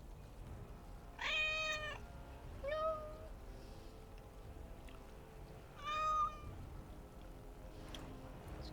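A cat in the video game Dragon Age: Origins meows three times, short clear mews spaced a few seconds apart over a quiet game background.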